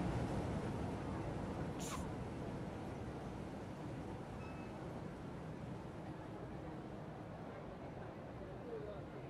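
A train on the S 1 line to Schöna in Train Simulator pulls away with a steady, loud low rumble and rolling noise throughout, plus one brief high chirp early on.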